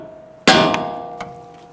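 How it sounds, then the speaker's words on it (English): Hammer striking the steering knuckle of a 2011-2023 Dodge Charger to release the ball joint, one sharp loud metallic clang ringing out, followed by a fainter second strike. "use a hammer and strike the knuckle to release the ball joint here"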